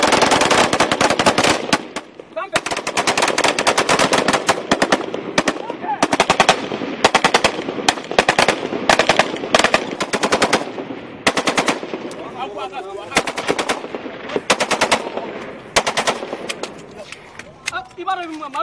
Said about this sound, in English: the Malian soldiers lay down a wall of covering fire.